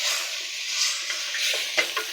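Spaghetti bolognese sauce is stirred in a hot pan: a steady, close sizzle runs throughout, with a few louder scraping strokes near the end.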